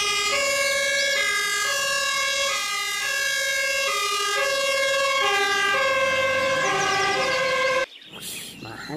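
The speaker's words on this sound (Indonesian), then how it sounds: "Wah, ada mobil pemadam kebakaran." A muddy toy fire engine being cleaned sounds its electronic siren, a steady two-tone wail repeating loudly and close for about eight seconds before cutting off abruptly, leaving brief handling noise.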